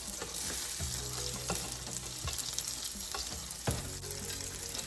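Rice paper rolls with cheese fry in olive oil in a pan, giving a steady, close crackling sizzle with scattered louder pops and spatters throughout.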